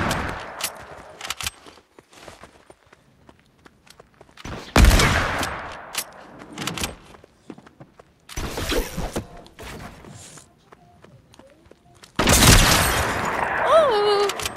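Gunfire in the Fortnite video game: scattered single shots and rapid bursts, some close and loud, others distant, separated by quiet gaps, with a few footsteps and faint game sounds between them.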